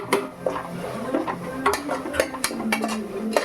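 Tomato masala being stirred in a pan, with rapid close metallic scrapes and clinks of a spoon against the pan over a faint sizzle, loud and continuous.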